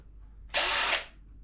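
A power drill runs in one short burst of about half a second, loud and close, starting abruptly and cutting off, while a TV is mounted on a TV cabinet; quiet surroundings before and after.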